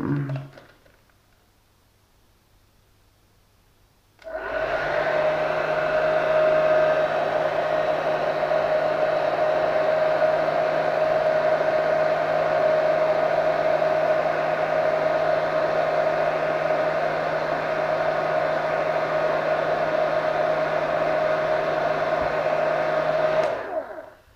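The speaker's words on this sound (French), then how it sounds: "Un petit coup de sèche-cheveux, attention les oreilles." A hair dryer switches on after a few quiet seconds and blows steadily and loudly with a constant whine until it cuts off.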